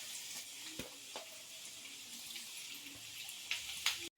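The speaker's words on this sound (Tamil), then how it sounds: "எண்ணெயோட சலசலப்பாடு அடங்கி அடங்கிருச்சு" Rice flour masala thattai fry in hot oil with a steady, close, crackling sizzle. A few faint clinks and taps sound over the bubbling before it cuts off.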